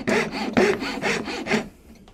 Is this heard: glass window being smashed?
no